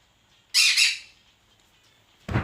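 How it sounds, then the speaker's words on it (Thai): A bird gives a loud, harsh squawk close by, then a second shorter call after a pause of quiet. "มันเจ้ามากวนคลิปผมไอ้นกตัวเนี้ย"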